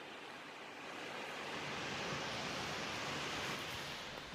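Shannon Falls, a waterfall running low in freezing weather, gives a steady broadband rush of falling water heard from a moderate distance, constant and unbroken with faint wind noise and no voices.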